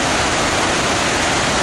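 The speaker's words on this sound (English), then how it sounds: "This is the remnants of the Great Northern Dam here on the Wenatchee River." Water pours steadily over the broken remnants of the old Great Northern (Tumwater) hydroelectric dam on the Wenatchee River, a loud, continuous close-up roar of rushing cascade with no other sound.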